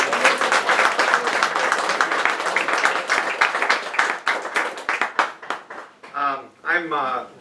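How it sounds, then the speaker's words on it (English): An audience applauds Dorothy with a burst of dense clapping that thins out over several seconds, and a voice starts talking near the end. "Give a round of applause to Dorothy."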